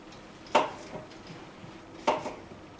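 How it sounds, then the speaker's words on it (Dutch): Two sharp knife chops slice through a cucumber on a cutting board about a second and a half apart, close and fairly faint, with soft kitchen sounds between. "En zo gaan we eigenlijk heel de komkommer snijden."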